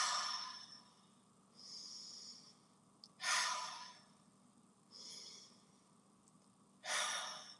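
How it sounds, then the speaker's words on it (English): Slow, deep breaths during a guided relaxation: long airy inhales and exhales alternating in a steady, unhurried rhythm, close and fairly soft, with no talking. "Breathe in 3 deep breaths."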